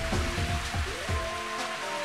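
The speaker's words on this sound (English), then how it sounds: "It's raining." Rainfall in the Mario Golf video game, a soft steady patter of rain over low game music, continuous and fairly quiet.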